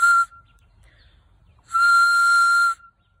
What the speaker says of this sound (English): The other thing that we had made from the elderberry is whistles.